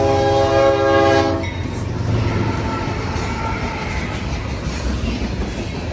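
A northbound freight train sounds a loud, sustained multi-tone horn blast at the 19th Avenue grade crossing in Apollo Beach, Florida, then passes with a rumbling roll and rhythmic wheel clatter.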